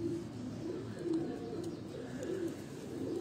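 Large-bodied pigeons coo softly in a loft, low repeated throaty coos at a slow, uneven rhythm over a faint background hum, with a few light clicks and no talk.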